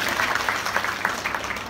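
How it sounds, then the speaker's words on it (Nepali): A church congregation at a Christian mothers' fellowship in Dharan claps in thanks, producing a brisk, fairly loud patter of many hands that ripples unevenly and fills the room, with faint talk underneath. "धन्यवाद दिन छौं ताली बजाएर"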